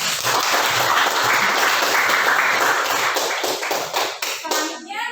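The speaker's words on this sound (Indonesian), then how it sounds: "berikan tepuk tangan" A classroom of students claps hands together in dense, continuous applause for several seconds before it thins out and fades near the end.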